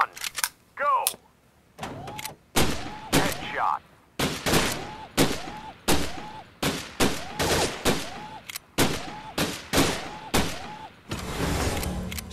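Gunfire from the Gun Club VR game on Oculus Quest 2, S.W.A.T. DLC, comes as a run of sharp, loud single shots in an uneven rhythm, each with a short ringing tail, plus mechanical clicks between them.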